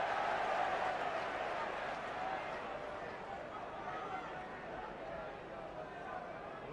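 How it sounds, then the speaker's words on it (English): A large stadium crowd roars continuously at a 1995 rugby league World Cup semi-final between New Zealand and Australia, a broad sustained wash of cheering that holds steady throughout. "The crowd roaring the Kiwis on."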